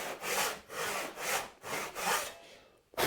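Hand saw cutting a sliding dovetail kerf in a wooden board: five steady back-and-forth rasping strokes, close and loud, in an even rhythm, then a brief pause and the start of another stroke.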